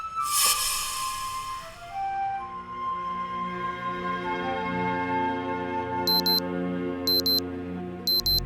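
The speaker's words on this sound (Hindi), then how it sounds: "ये तुम्हारा अलार्म भी ना बहुत ही अजीब है यार" An alarm clock rings in a Hindi television drama scene, opening with a sharp struck tone followed by sustained sliding melodic chimes, then a repeating bright electronic beep pattern pulsing about once per second near the end.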